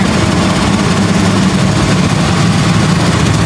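A 52-year-old vintage Jeep Wagoneer engine pulls in first gear, a loud, continuous, rough low rumble heard close up with no talking over it.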